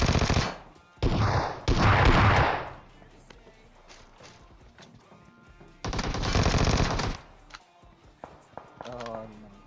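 Gunfire in the mobile game PUBG Mobile from a cheap gun: loud bursts of automatic fire in several long volleys, with quieter single shots and footsteps between, under a voice.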